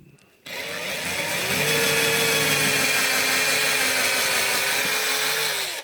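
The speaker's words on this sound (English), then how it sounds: "with a small drill you continue where the hole was" A small 1/4-inch electric drill boring through wood whirs steadily for several seconds, starting abruptly and winding down at the end, close up.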